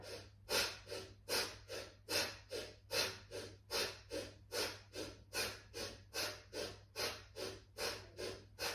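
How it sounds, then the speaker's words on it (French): Bhastrika bellows breathing during yoga practice: steady rapid forceful breaths, about two per second, close and fairly soft, over a low steady hum with no talking. "On va commencer le Bhastrika."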